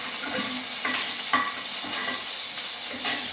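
Fenugreek seeds spluttering in hot sesame oil, a close, steady sizzle with crackling pops and a few stirring scrapes running through the whole stretch, no voices over it.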